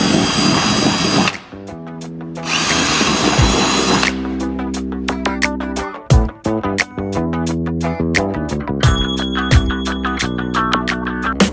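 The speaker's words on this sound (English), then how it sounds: "I pull the drill back and forth because it helps smooth the hole out a little bit" A power drill whines close by in bursts, pitch rising and falling as it bites and revs, with short pauses between runs.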